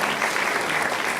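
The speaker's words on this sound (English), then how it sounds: "Give him another big round of applause." Dense, steady applause from a crowd at a public forum, a continuous wash of clapping at even loudness with no pauses.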